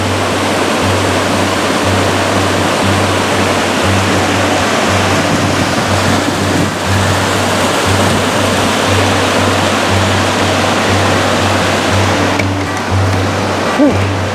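A mountain waterfall in the Pecos Wilderness cascades steadily down a steep slope, a loud, continuous close roar of rushing water filling the whole stretch with no talk.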